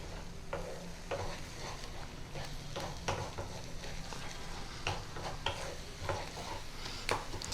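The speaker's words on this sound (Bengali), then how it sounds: "মশলার সঙ্গে ডিমটা খুব ভালো করে মিশিয়ে একদম গুঁড়ো গুঁড়ো করে" Cracked eggs being stirred and broken up with spices in a frying pan for spicy egg and eggplant bhurji: a low, soft sizzle with repeated spatula taps and scrapes, fairly quiet and close.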